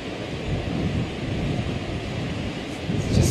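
Wind gusting across open African savanna during a wildebeest river-crossing scene, a steady low rushing roar buffeting the microphone, fairly faint and continuous.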